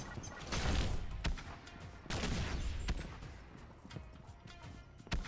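Bursts of gunfire in the video game Pixel Gun 3D, sharp cracks and rapid volleys coming in clusters, with several distinct loud shots standing out over ongoing battle noise.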